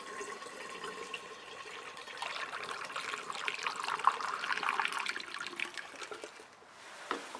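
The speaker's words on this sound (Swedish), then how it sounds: "Och sen tar vi och fyller på den här, får vi se om det läcker något mer den här." Liquid pours into the washer fluid reservoir of a Volvo 740/940, a quiet trickle that grows into a fuller gurgling stream as it fills, close and alone.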